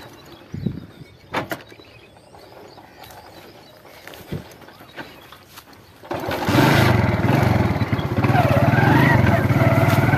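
Motorcycles on a road: a few quiet knocks and rustles, then an engine roars up close and runs loud and steady to the end.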